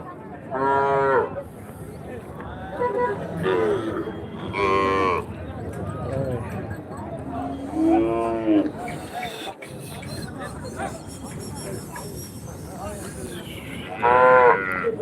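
Several native cattle moo loudly, one after another, over a busy crowd of chatter and livestock noise at the Chintamani cattle market.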